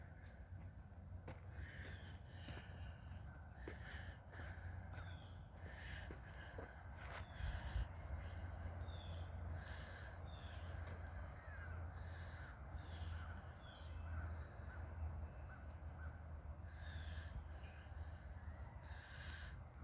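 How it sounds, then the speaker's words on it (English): Faint outdoor bird calls, caws and crowing from roosters and other birds heard from a distance over a steady low background hum, with no one talking. "Woodpecker, roosters, birds."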